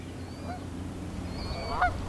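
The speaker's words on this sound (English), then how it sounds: "Ducks and geese getting their day started." Geese honk at a distance along a river at dawn, a few drawn-out calls rising near the end over steady low water and outdoor rumble.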